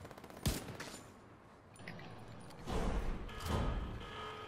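An automated turret fires in The Division 2 video game, rattling off a sharp opening burst and then two longer rolling volleys of rapid gunfire at moderate distance, with no speech over it.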